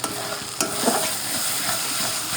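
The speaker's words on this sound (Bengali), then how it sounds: "মশলা কষানো হয়ে গেছে।" Mutton spices being stir-fried (koshano) in a pan, a close constant sizzle broken by a few quick scraping strokes of a spatula.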